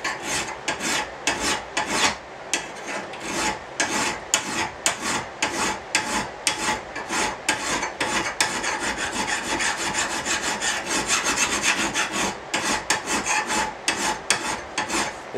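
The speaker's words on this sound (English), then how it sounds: "I'll take this finer file." A lawnmower blade being sharpened with a fine file, rapid rhythmic rasping strokes repeating steadily, close and loud with no talk.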